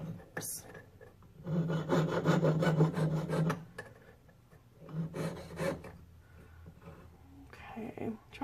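A jeweler's saw cuts slowly through a fine-silver clock stamping braced on a bench pin, giving a raspy rhythmic stroking that comes in bursts separated by brief pauses.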